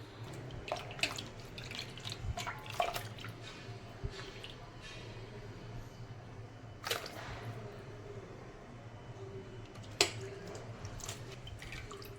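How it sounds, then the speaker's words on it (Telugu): Homemade butter being washed by hand in a bowl of cool water: soft squishing and scattered drips and splashes, close and fairly quiet, with a few sharper splashes along the way and no talking. "ఆ కూల్ వాటర్లో అరౌండ్ మనం 4 times అయినా ఈ వెన్నను మొత్తం క్లీన్ చేసుకోవాలి"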